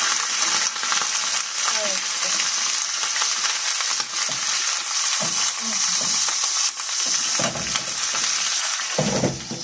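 Eggplant and tomato fry in a pan with a loud, steady sizzle, joined by scraping and clinking of a utensil stirring against the metal.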